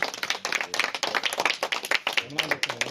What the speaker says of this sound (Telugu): అందరూ ఒకసారి చప్పట్లు కొట్టండి